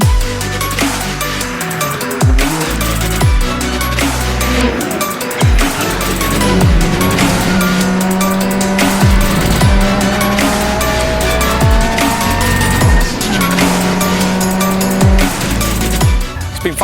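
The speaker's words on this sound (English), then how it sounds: "I'm racing here on my Lotus for the Club Endurance Championship at Alton Park" Lotus race car at full speed on the Alton Park circuit in a club endurance championship, loud engine revs rising and falling through gear shifts with tyre squeal, continuous and close throughout.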